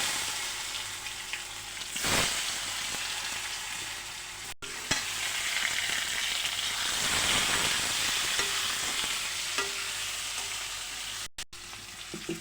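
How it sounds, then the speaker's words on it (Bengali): Potatoes sizzle and spit in hot oil with cumin seeds and bay leaf, a steady close frying hiss with a louder burst as they drop in around two seconds and another surge of crackling midway. "জিরা সম্বার দিলাম, তেজপাতা দিলাম, তারপরে আলুটা ছেড়ে দিলাম।"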